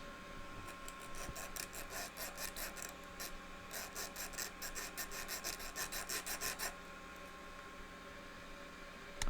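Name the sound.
filing with a small metal file, back and forth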